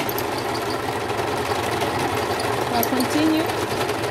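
Singer 14SH754 overlocker running as the foot pedal is pressed, giving a steady whirring mechanical hum with a rapid repetitive stitching rhythm, heard under a person speaking.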